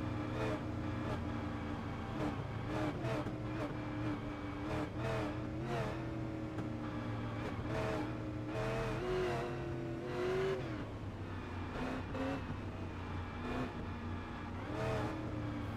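Race car engines roar continuously at high revs during a race's closing laps at the 2018 Ice Bowl, several cars passing and shifting pitch, loud and close, with no voices.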